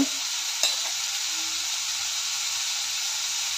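Green beans being stir-fried with turmeric, hing and crushed garlic in a hot pan give a steady broadband sizzle, with a single sharp spoon scrape near the start and no voices.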